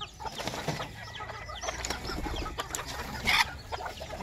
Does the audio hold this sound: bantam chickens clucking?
yes